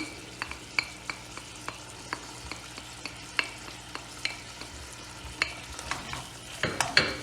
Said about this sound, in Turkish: Bir 10 dakikada soğanlarımla birlikte etlerimi kavuracağım.